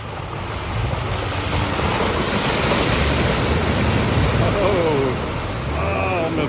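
A Chevy ZR2 plows through an icy mud pit at a Virginia wheeling farm: a loud, steady roar of churning water and slush fills the whole stretch, with voices briefly rising near the end.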